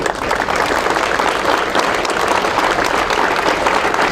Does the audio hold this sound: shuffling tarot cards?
no